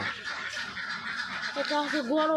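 Ducks on a duck farm struggling in excessive heat, giving a few nasal quacking calls that grow clearer toward the end, with a human voice in the background.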